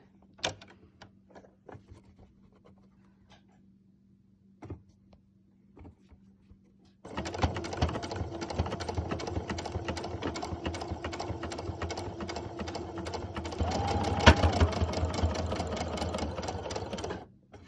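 Sewing machine stitching a fabric Olson mask, starting after several quiet clicks and taps and then running in a fast, continuous mechanical chatter for about ten seconds, close and steady, speeding up near the end.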